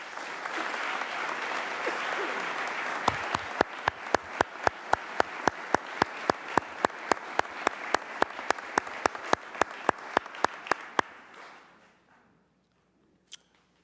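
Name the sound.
audience applause at budget address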